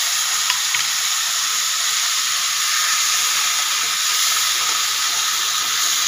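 Masala tomato hits frying cauliflower in a hot pan and sets off a loud, steady sizzle with a bright continuous hiss, close and unbroken, with nobody speaking.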